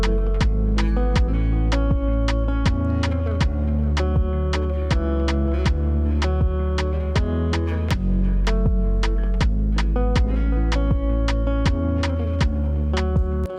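A loud Afrobeat hook loops steadily, built on a deep, booming 808 bass line with a regular, punchy beat and layered melodic notes, close, dense and continuous without any voices.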